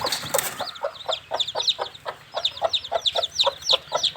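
Chickens with freshly hatched healthy chicks, a rapid run of high peeps from the chicks over low rhythmic clucking from an adult hen, close and fairly loud throughout.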